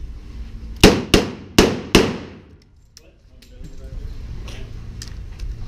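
Four loud, sharp handgun shots ring out at a shooting range in quick succession, close by and evenly spaced, followed by quieter ambient noise and faint rustling.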